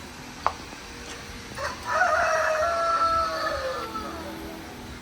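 A rooster crows once, loud and nearby, after a brief sharp sound, over faint chicken clucking in the background.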